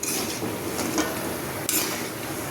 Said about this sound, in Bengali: এই যে ভাজা হয়ে যাচ্ছে